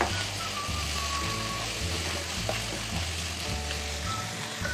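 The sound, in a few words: spaghetti vegetables frying with black pepper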